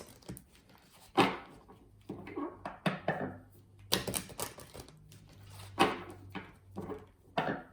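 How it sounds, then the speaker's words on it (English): Tarot cards being shuffled by hand, a run of crisp papery riffles and soft taps in quick irregular bursts, close up and fairly quiet, with no talking. "just giving the tarot cards a quick shuffle"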